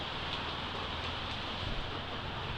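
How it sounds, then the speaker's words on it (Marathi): Steady rain falling outdoors, a dense, even hiss of drops on surfaces that continues without a break, with no voices over it. "तुम्ही बघता आता मस्तपैकी पाऊस पडतोय बाहेर"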